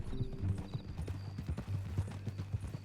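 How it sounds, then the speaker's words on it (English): Steady clip-clop of horse hooves at a walking pace, close by, with a low rumbling background throughout, from the video game Red Dead Redemption 2. "That a new horse?"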